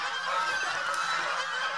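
Domestic geese from a farm flock raised for weeding rice fields honk together in a dense, continuous chorus of overlapping nasal calls, fairly close and steady, with no talking.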